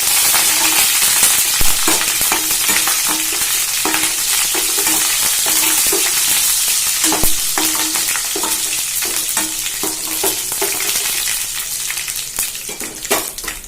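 Chana dal, urad dal and curry leaves fry in hot oil for a banana flower paruppusili, giving a loud, dense crackling sizzle with frequent pops and occasional stirring clinks throughout.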